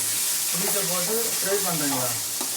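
Fish coated in masala fries in hot oil with curry leaves, a steady bright sizzle running throughout while a person talks over it.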